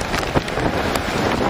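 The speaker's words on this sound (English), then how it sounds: "Incredibly heavy rain here." Heavy rain and strong, gusting wind from a thunderstorm roar steadily and loudly close to the microphone, buffeting it with dense, continuous noise.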